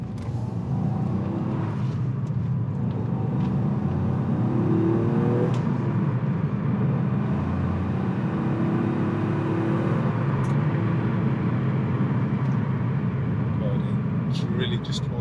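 Toyota GR with its 1.6-litre turbocharged engine in sports mode gives a steady, close engine drone for about fifteen seconds, with a voice talking over it throughout.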